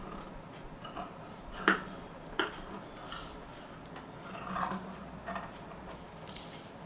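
Scissors snip through handbag fabric along the stitched edge, a few sharp distinct clicks spaced apart over quiet background rustling.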